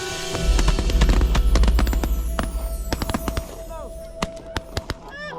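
Shotgun blasts ring out on a windy New Zealand duck hunt: a dense burst of sharp, close bangs over blustery rumble, then several distinct, spaced cracks near the end, with voices faintly present.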